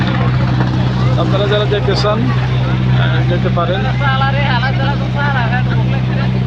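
A trawler carrying passengers from Chairman Ghat in Noakhali towards Monpura drones steadily across a calm river, its engine a constant low hum beneath close, loud talking voices.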